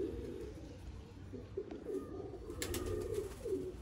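Pigeons coo steadily in a loft in Sialkot, Pakistan, a soft repeating murmur of several birds, with brief higher chirps toward the end.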